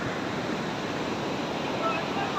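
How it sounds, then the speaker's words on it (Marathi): A large ocean wave breaks and rushes up the beach at Puri, a broad, steady roar of surf that fills the whole moment without pause. "खूपच मोठी लाट आली होती"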